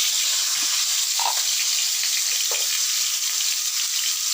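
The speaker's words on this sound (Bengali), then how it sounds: "আলুগুলো দিয়ে দিচ্ছি তেলের মধ্যে।" Potato pieces frying in hot oil with a steady, bright sizzle from start to finish, and a few soft stirring knocks in the pan. No voices.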